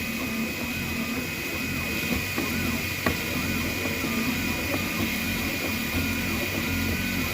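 An Anet A8 3D printer runs a print at 100% infill, giving a steady close-up mechanical whir and hum with faint stepper tones and a few soft clicks throughout.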